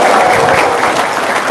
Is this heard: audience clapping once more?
yes